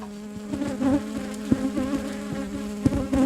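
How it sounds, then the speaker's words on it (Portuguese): Honeybees fly right around the microphone at an apiary, their buzzing a close, loud, wavering hum that swells and dips as individual bees pass. "eu não paro de ouvir as abelhas voando"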